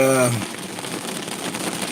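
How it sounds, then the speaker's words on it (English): Steady rain patters and hisses across a surface, a continuous crackling wash after a brief tonal sound at the start. "Now it's raining pretty good."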